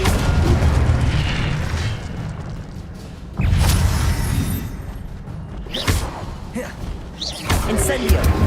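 Incendio fire spells are cast again and again in Hogwarts Legacy. Each cast lands with a heavy booming thump or burst, several of them spaced through the stretch, against a busy background with a voice speaking over it.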